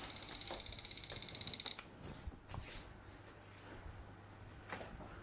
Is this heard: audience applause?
no